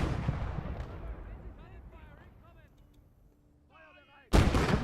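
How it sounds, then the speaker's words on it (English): Mortar and artillery fire in the World War II strategy game Gates of Hell: Ostfront, a heavy blast decaying at the start and then a sharp, loud new detonation near the end, with faint radio-like voices in the game between. "they have a mortar? I think they do. That's not good."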